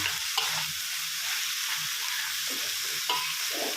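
Minced pork stir-fries with dried chili over fairly high heat in a wok, a spatula crushing and scraping through the meat in uneven strokes over a constant close sizzle.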